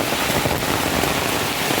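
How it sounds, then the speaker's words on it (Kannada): Heavy rain beats down hard and close in Kumbaragappa village, a dense steady roar of drops on surfaces mixed with rushing runoff water, loud and unbroken, with no voices. "ಫುಲ್ಲು ಈಗ ಒಂದು 10 ನಿಮಿಷದಲ್ಲಿ ಮಳೆ ಸ್ಟಾರ್ಟ್ ಆಗಿ ಈ ಥರ ನೀರು ಬರ್ತಿರೋದು"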